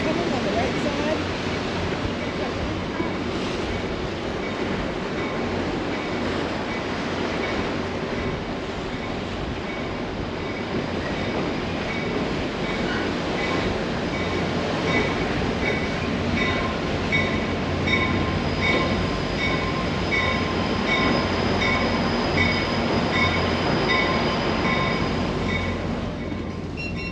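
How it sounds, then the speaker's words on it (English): Train passing close alongside a boat travelling under bridges near Chicago, a long steady rumble and clatter of rail cars over the hum of the boat's motor and water. "We're going to catch this train coming on the right side."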